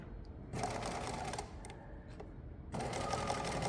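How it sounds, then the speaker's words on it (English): A sewing machine runs steadily while stitching a backpack, its motor whirring loud and close in two long bursts separated by a brief pause. "now I'm going to sew just to the left side"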